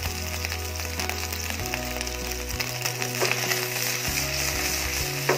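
Ginger and garlic fry in a wok for beef and broccoli stir fry, giving a dense, steady hiss of hot oil, close and fairly loud, with a low hum behind it and no talking.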